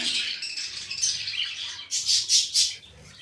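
Rainbow parakeets chirp in a continuous bright, high chatter, then give four louder, distinct chirps close by near the end, with no talk over them.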